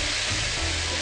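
Crumbled tofu sizzles in coconut oil in a hot pan over medium heat, a dense, steady hiss that fills the short moment without pause.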